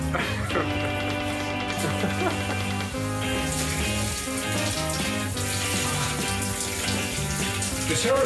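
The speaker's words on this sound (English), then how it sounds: "My first time taking a shower on a train." Steady rushing water from a shower on a moving night train runs without a break under a low rumbling hum and rattle, with no voices.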